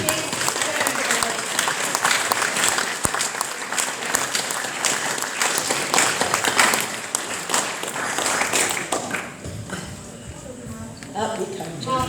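Loud, continuous applause from an audience at a Kingwood 25-year celebration in Didcot, dense clapping sustained for about nine seconds before thinning out, with voices talking over it.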